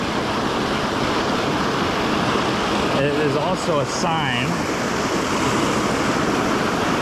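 Broad, steady roar of white water rushing out of a roadside culvert into a brook, continuous and close, with someone talking briefly over it partway through.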